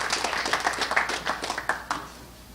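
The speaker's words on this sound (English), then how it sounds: "Please give a round of applause to Evgeny Gradovich." A small audience at a boxing press event applauds boxer Evgeny Gradovich, scattered, moderately close hand claps that build briefly and then thin out to a few last claps.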